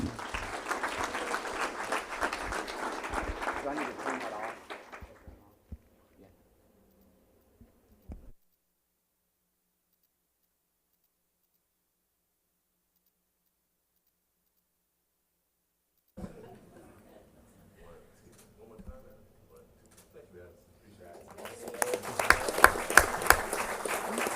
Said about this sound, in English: one round of applause here for Addison Miller.